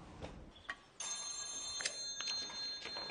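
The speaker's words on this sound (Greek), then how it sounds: "Κυρία Φίμπη, τηλέφωνο σας χτυπάει, να το φέρνω." A telephone rings with a thin, high, steady electronic tone that continues through most of the moment, accompanied by faint ticking and clicking. Nobody speaks.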